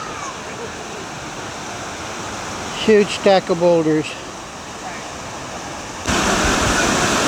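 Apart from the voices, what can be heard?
river rapids flowing over a small waterfall among boulders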